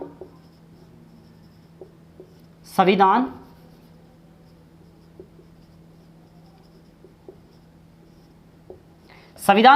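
Handwriting during a lecture makes faint, sparse scratching ticks in the quiet gaps, with bursts of a man's speech at the start and end.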